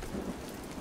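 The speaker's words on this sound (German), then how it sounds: "Stimmt, weil es regnet." Rain in the video game Rocketbirds: Hardboiled Chicken, a brief steady wash of falling rain with a low rumble, even and continuous with no talk.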